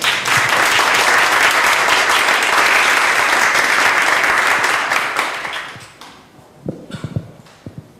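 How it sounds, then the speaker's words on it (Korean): A keynote audience at a startup and venture forum gives the speaker a loud welcoming ovation of dense, sustained clapping that fades out after about five seconds, leaving a few scattered claps and footsteps. "큰 박수로 환영해 주시기 바랍니다"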